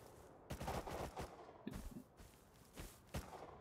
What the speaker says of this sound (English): they're raiding these guys because these guys grubbed some of their shit. Yeah, they're shooting at them.